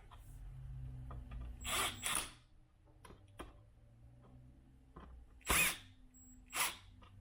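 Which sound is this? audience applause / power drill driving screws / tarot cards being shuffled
power drill driving screws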